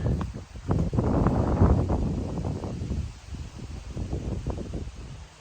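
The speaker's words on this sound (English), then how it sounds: "Wind was really blowing hard" Strong wind gusting on a windy day in timber country where trees are being felled, a steady rushing roar with rustling that swells loudest midway, then eases to lighter gusts, with no voices.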